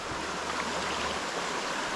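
A river flows steadily in a rural countryside setting, a continuous broad rushing wash of water that is close and constant, with no voices over it.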